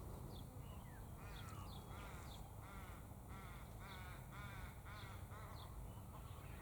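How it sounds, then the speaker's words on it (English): A raven calls in a series of harsh, hoarse croaks, spaced a half-second or so apart, moderately distant over steady outdoor background noise. "Listen to that raven."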